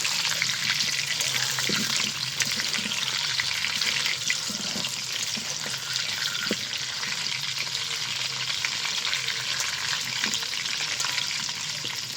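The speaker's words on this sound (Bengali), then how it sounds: "এবার আলুগুলোও ভেজে নেব" Potatoes fry steadily in hot oil for chicken biryani, a loud, close, continuous sizzle with faint stirring clinks running unbroken throughout, no voices.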